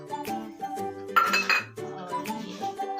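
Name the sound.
spices being mixed into gobi paratha filling in a bowl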